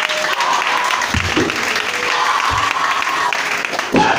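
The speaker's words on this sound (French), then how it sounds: "Est-ce que tu peux acclamer les gens?" A church congregation claps and cheers during a Christian worship service, a dense, steady wash of applause that fills the room, with voices mixed in.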